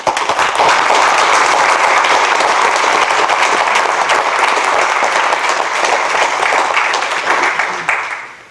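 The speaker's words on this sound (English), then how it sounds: "I'd like to give them a round of applause." Loud, sustained applause from attendees at a county court meeting, dense clapping filling the room for about eight seconds before tapering off.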